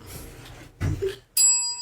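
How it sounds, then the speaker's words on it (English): A bright bell rings once near the end with a clear, sustained metallic tone, following a couple of short muffled knocks. "Ring the bell."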